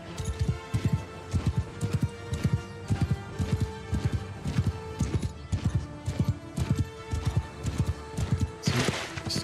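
Horse archers' hooves in a feudal-world battle game, a steady run of loud clip-clop beats with occasional whinnies amid battle noise.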